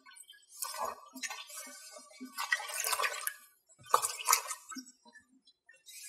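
Fabric dye mixture poured and stirred into water for ombre dyeing a skirt, with close splashing, sloshing and light clinks of a container in irregular bursts.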